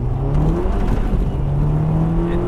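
Remapped Volkswagen Golf GTI mk5 with R-tech tune and aftermarket exhaust accelerating hard while spinning the front wheels, engine drone rising steadily in pitch, loud and close, with a brief dip as it shifts.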